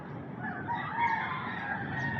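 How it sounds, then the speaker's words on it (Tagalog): A rooster crows at dawn around six in the morning, one sustained crow at moderate distance with faint clucking and background fowl noise. "Manok lang may ingay mo rito yan."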